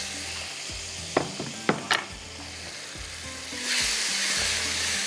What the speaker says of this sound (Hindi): अब मसाले के साथ ही फ़ौरन आपने टमाटर डालने, वरना वो जल ना जाए